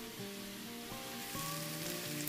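Tomatoes and onions fry in a pan with a soft, steady sizzle, quiet and close, while faint tonal music plays underneath.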